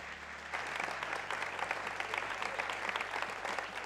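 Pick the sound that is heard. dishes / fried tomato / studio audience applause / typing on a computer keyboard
studio audience applause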